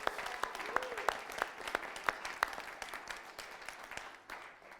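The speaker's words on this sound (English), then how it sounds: "Everyone give a big round of applause for our new tribe members." Applause for new tribe members at a youth tribe night, fairly faint with a few sharp claps and whoops standing out, thinning toward the end.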